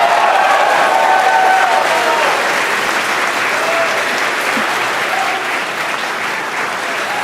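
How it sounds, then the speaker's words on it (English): A crowd at a rocket launch applauds and cheers, a dense sustained wash of clapping and voices with a few whistles, loud and close, easing slightly toward the end. "by the cheers and the crowd behind me"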